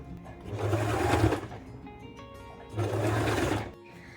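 A sewing machine stitches a seam through the fabric lining and zipper of a knitted waist bag, running in two steady bursts of about a second each with a short pause between them.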